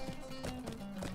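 Horse hooves clip-clopping at a brisk ride in the Lord of the Rings Online video game, quick rhythmic thuds close up with no talk.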